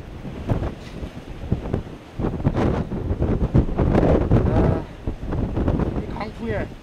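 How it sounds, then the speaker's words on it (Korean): Strong gusting wind buffets the microphone on a fishing boat at sea, with rough rushing bursts, waves and hull noise surging and easing over several seconds. "바람이 대단합니다"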